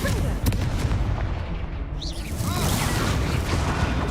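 Spell blasts from the fire-spell Confringo in a Harry Potter video game, heavy booming explosions layered over continuous loud game noise for several seconds.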